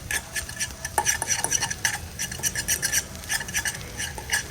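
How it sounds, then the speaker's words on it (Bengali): An egg being shallow fried in a pan and stirred with a fork gives a steady run of metallic scraping and clinking over a soft, continuous sizzle, close and moderately loud with no talk. "এই যে দেখুন, ডিমটাকে আমি এইভাবে একটু শ্যালো ফ্রাই করে নেব।"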